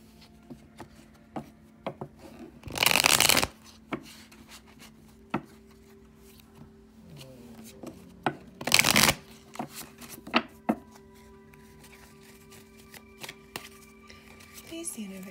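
A deck of healing oracle cards is shuffled in two quick, close, riffling bursts, with scattered light taps and handling sounds between them and no voice.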